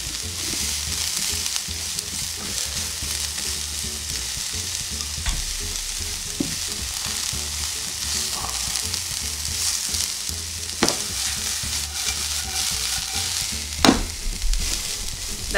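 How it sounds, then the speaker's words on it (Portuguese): Carrots frying in very hot butter give a continuous loud sizzle with occasional clicks and stirring knocks of a utensil against the pan, no voices. "colocar agora a cenoura depois da gordura, tá? Fica bem quente a manteiga aqui."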